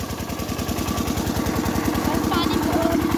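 A motor, apparently a boat or similar engine, runs steadily beside water, its rapid low chugging pulse constant and close throughout, with faint background noise over it.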